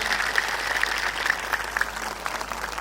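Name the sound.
audience applause at satsang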